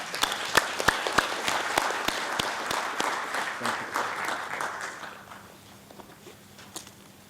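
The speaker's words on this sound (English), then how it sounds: "Let us give His Excellency Dr. Akung Der Pitaya Pasit a round of applause." Audience applauding a speaker at a transport committee session, a steady dense round of clapping that fades after about five seconds, leaving a few scattered claps in a quiet room.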